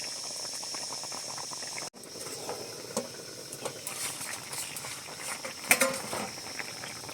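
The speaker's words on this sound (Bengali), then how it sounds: "জিরে বাটা দিয়ে আমি আরও ঢাকা দিয়ে ভালোভাবে ফুটিয়ে নেব।" Fish and lentil dumpling curry simmering in a covered pot, a steady soft bubbling and faint sizzle close by with occasional small pops and one brief sharp clatter.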